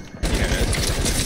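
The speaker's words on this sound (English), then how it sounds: "What the fuck are you shooting me with, the deagle?" A rapid burst of Desert Eagle pistol fire in Fortnite, loud, dense and close, opening abruptly after a brief quieter moment.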